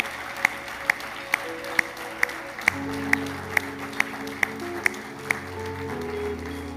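Church congregation applauding in rhythmic unison, sharp evenly spaced claps about twice a second over a low background of crowd noise and music, moderately loud and slightly distant.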